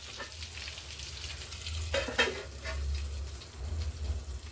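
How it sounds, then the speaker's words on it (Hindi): Stuffed parwal (pointed gourd) frying in a pan and being stirred, a steady soft sizzle with a few brief scraping stirs in the middle, close and alone without talk. "कलौंजी को फिर से हम चला लेते हैं।"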